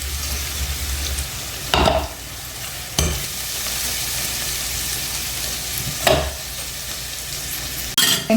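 Onions and cashews sauté in a pan with oil for a beetroot lunchbox dish, giving a steady loud sizzle broken by a few louder scraping stirs of a spoon, with no voice.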